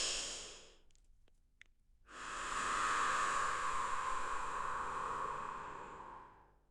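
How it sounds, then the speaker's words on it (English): A single slow, deep breath: a brief inhale, a short pause, then a long, airy exhale that swells and fades, close to the microphone in a quiet room with no talking. "I want you to take a deep breath with me."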